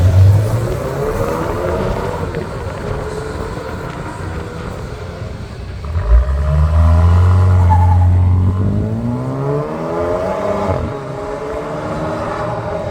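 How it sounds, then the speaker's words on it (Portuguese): Fiat Fastback Abarth and Pulse Abarth on a track, engine exhaust roaring loud and close, with a rising rev swell in the middle before settling back to a steady drone. "o ronco do escapamento dos dois carros é bem diferente"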